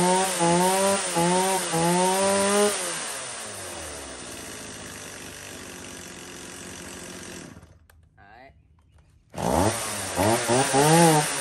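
A STIHL chainsaw engine revs hard in rising and falling bursts, settles into a steadier running drone, cuts out briefly, then screams back up to high revs, loud and close with no talk.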